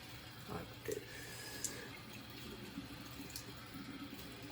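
Tap water running in a sink and splashing over a person's arm while washing a fresh tattoo, a soft continuous trickle with a few faint drips and clinks, quiet and close.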